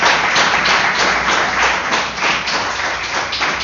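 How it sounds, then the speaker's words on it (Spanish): A congregation claps steadily and loudly at a church service, a dense roar of many hands with no voices standing out. "Vamos a darle un aplauso al Señor que habla."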